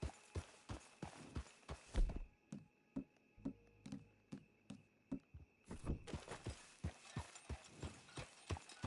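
Repeated clip-clop of horse hooves on a trail in a Western video game, steady walking rhythm with a brief near-silent stretch in the middle, close and clear with a low hum beneath.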